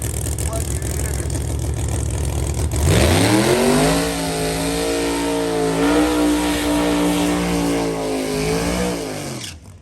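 After some murmuring voices, a powerful rally race car engine roars to life and revs loudly up close, holding a harsh, rumbling drone with slight pitch swells.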